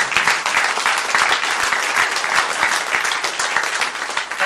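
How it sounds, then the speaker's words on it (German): An audience at an amateur theatre group's recital night gives warm applause for a young boy as the curtain opens, with many hands clapping in a steady, lively stream at close range. "einen Applaus für unseren Hansi"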